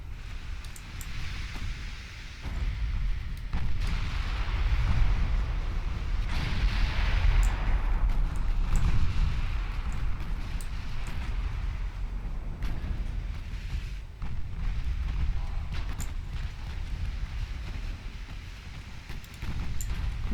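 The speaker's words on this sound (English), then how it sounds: "The Colbert here taking a few 16-inch shells." Heavy 16-inch naval shells slamming into the warship Colbert amid a sustained naval gun battle in Ultimate Admiral Dreadnoughts, a continuous low rumble of distant booms and impacts with scattered sharper cracks.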